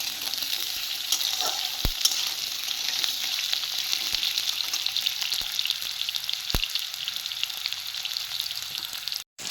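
Steady crackling sizzle of potatoes frying in a pan, continuous and close, with a few sharp knocks against the pan and no talking.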